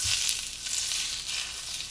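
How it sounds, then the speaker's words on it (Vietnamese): Scallions hit hot vegetable oil in a pan over medium-high heat, giving a steady, close, bright sizzle and crackle that continues evenly without pause. "Dầu đủ nóng là sẽ nghe xèo xèo như vậy ha."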